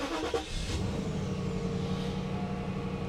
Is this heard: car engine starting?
yes